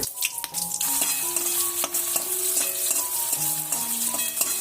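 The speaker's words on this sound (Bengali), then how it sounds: "যেই তেলে পেঁয়াজ বেরেস্তা করেছি ওই তেলেই আমি ডিমগুলিকে হালকাভাবে একটু ভেজে নিচ্ছি" Eggs lightly frying in the same oil used to brown onions, with a steady close sizzle throughout and scattered clinks and scrapes of a utensil against the pan, no voices.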